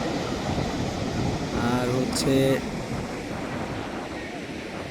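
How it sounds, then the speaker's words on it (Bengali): Rough monsoon-season sea surf at Patuartek beach near Inani, Cox's Bazar, a steady broad roar of breaking waves mixed with wind, with a voice speaking briefly in the middle. "অনেক উত্তাল সমুদ্র এই সময়।"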